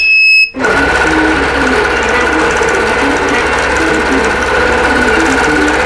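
A sewing machine stitches out a quilt block for a Crown of Thorns fanfare pattern, starting after a brief pause and then running in a steady, close, continuous whir with a faint mechanical clatter throughout.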